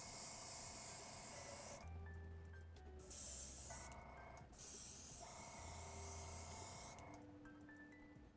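An airbrush sprays paint in steady hissing bursts onto a 3D printed Darth Vader can cozy, with short pauses between passes and a faint mechanical hum running underneath, close and continuous.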